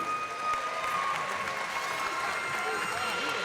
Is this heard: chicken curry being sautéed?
no